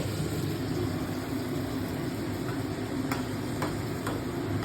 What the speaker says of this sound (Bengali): একটু জল দিয়ে দিলাম, হালকা ফুটবে।